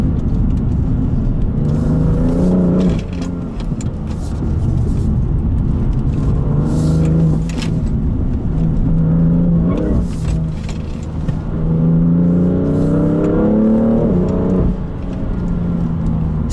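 A BMW M3 Competition revs hard while driving, its engine climbing and dropping in repeated loud pulls, steady and close throughout with no talk.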